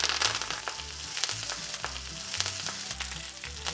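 Young chickpea greens dropped into hot oil with browned garlic, sizzling and crackling steadily up close, with a bright hiss and occasional sharp pops and stirring clatter; no talking.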